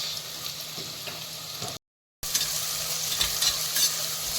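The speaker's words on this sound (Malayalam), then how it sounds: "അതിനുവേണ്ടി നമ്മൾ ഉള്ളി ഫ്രൈ ആണ് ഫസ്റ്റ് സ്റ്റെപ്പ്" Onions frying in oil for Kerala-style beef biryani, a dense steady sizzle with occasional stirring scrapes, close up, broken by a brief dropout of silence midway.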